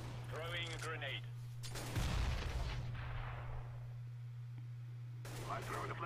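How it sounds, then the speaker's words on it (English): A grenade explodes in the video game CS:GO, a loud booming blast with a rumbling decay, set against a steady hum, with a voice speaking before and after. "Throwing a grenade."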